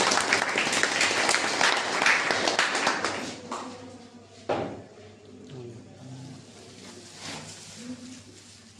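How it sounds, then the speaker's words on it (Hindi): An audience at a voter awareness event in Madhepura, Bihar, claps in a loud burst of applause that fades after a few seconds, leaving scattered claps, a thud and quiet room noise. "एक बार जोरदार तालियां।"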